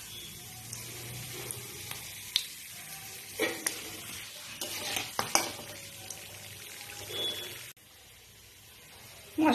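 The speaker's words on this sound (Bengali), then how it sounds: "আর এই যে তেল গরম হয়ে গেছে, এর মধ্যে দিয়ে দিলাম ফোড়নটা।" Whole dried red chillies, cloves, cardamom, cinnamon and cumin seeds tempering in hot oil for chicken kosha, a steady crackling sizzle with small pops and stirring clatters, close and moderately loud with no talk.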